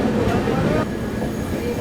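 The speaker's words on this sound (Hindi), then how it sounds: "कानपुर शताब्दी ने ओवरटेक मारना चालू कर दिया हमें" The Kanpur Shatabdi express passes alongside on the parallel track, a loud continuous rumble of wheels and rushing carriages heard from inside a moving train on the Gaya–Delhi route.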